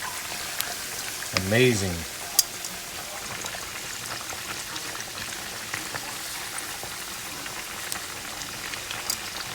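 Pork carnitas fry in a pan with a steady, soft crackle and spattering sizzle like light rain, and someone speaks briefly over the cooking noise.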